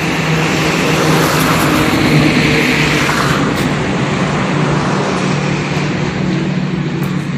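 A car drives past with a steady, loud rush of road and engine noise that fills the whole stretch, holding fairly even with no voices.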